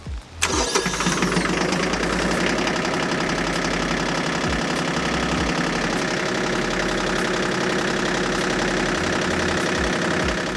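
A Bad Boy compact tractor's diesel engine cranks and catches, then settles into a steady, loud, rumbling idle with a rhythmic knock, running continuously close by, in the rain.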